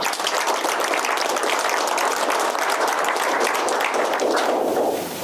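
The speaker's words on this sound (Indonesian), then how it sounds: "Jadi tepuk tangan dulu buat Humas Polri." Steady, dense applause from an audience honoring the Indonesian National Police public relations division (Humas Polri), sustained at an even level for about five seconds before easing slightly at the end.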